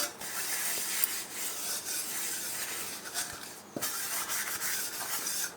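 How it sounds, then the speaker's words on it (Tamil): A surface is rubbed very lightly by hand to clean it, making soft, continuous scratchy rasping strokes that are quiet and close, with short pauses between passes. "ரொம்ப லைட்டாக தாம்மா நான் தேய்க்கிறேன்"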